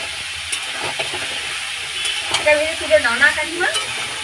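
Food fried and stirred in a pan for a home dinner, with eggs fried alongside, gives a steady close sizzle broken by scraping stirring strokes that grow busier toward the end.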